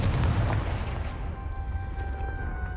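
A Confringo blasting spell goes off in the Hogwarts Legacy video game, a loud low rumbling boom at the start that rolls into a sustained roar and fades under steady game tones.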